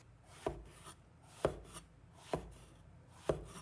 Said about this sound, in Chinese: 直接切成滚多块